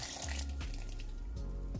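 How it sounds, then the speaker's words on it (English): Dragon stout is poured from a half-full bottle into a punch mixture of oats, sea moss and plantain, a short, close liquid gush with glugging. "I have half bottle of dragon stout. I'm going to pour all of it."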